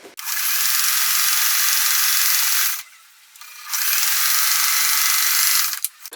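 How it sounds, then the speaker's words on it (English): A machine sews quilt blocks together in two bursts of bright, high-pitched buzzing, loud and close, split by a short pause, with faint clicks at the end. "And I'm going to sew these together now."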